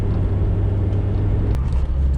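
A tired diesel car engine in normal driving gives a steady, low, droning rumble heard from close by, with one brief click partway through and no voices.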